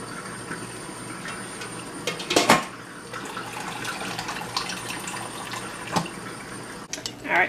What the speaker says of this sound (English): I'm going to pour this into the tea pitcher.